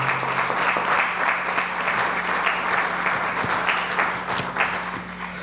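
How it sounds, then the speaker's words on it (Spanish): An audience applauds two presenters at a tribute event for Don Tommy Muñiz, sustained, fairly loud clapping from many hands with a steady low hum beneath. "Un aplauso para ellos."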